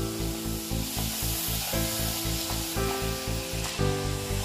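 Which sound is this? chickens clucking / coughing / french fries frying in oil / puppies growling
french fries frying in oil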